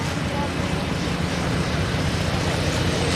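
A Robinson R44 helicopter in flight gives a dense, steady roar that fills the whole stretch, loud and constant with no break.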